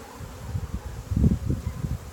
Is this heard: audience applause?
no